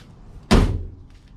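A Volkswagen Beetle door fitted with new glass, tracks and seals shuts once with a solid, close thunk, followed by a brief fading rumble in an otherwise quiet space.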